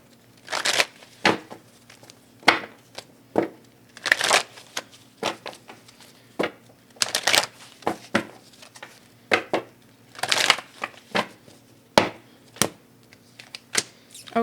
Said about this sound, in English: let's go ahead and just grab one of these Art of Manifestation cards